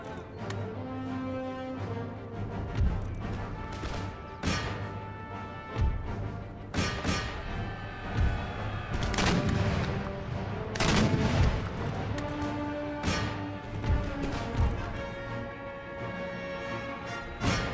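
Artillery cannons and massed musket volleys in an Empire: Total War battle, with sharp gunshots and crackling fusillades repeating steadily over a continuous battlefield din, no talk.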